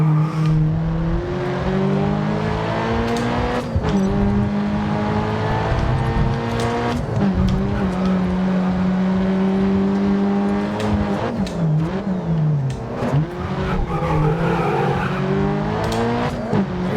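A race car engine in Grid Autosport, loud and continuous, climbing in pitch and dropping with each gear shift, mixed with tire squeal and other cars nearby.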